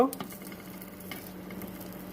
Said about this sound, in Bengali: এখন আমি এটাকে তুলে বাকিগুলো এইভাবে আমি ভেজে নেব।